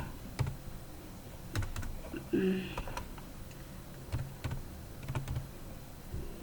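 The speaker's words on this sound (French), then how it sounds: "nous allons essayer de taper quelques commandes de Nikto" Computer keyboard keys tapped in short irregular bursts while entering Nikto commands, quiet and close, with a voice talking over the clicks.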